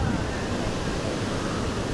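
Small waterfall on a hillside near Lake Como, Italy: a steady, dense rush of falling water heard close, filling the whole moment without any break.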